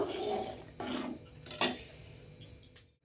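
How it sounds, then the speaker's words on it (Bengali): A spoon clinks and scrapes against a mug while stirring Amul milk powder into a little milk, a few separate sharp taps among softer swirling rubs, close and alone. "এটার মধ্যে আমি আমুলটা গুলে নেব"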